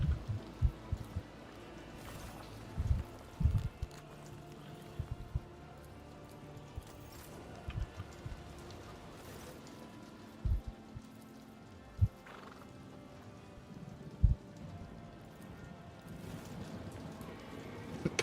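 Hooves clip-clop and a horse neighs and whinnies in the Warhammer 40k Rogue Trader video game, with scattered sharp hoof thuds over a steady, rain-like background hiss.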